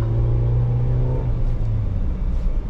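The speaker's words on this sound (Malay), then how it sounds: "Okay, tekan minyak kuat." The engine of a 2009 Toyota Avanza 1.5 automatic hums loudly and steadily at close range as it revs, its low drone holding through the whole stretch with a slight dip partway through.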